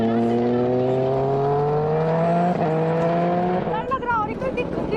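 A Kawasaki Ninja ZX-10R superbike engine hums loud and close, its pitch climbing steadily for a few seconds before it changes and eases off, with a voice speaking over it.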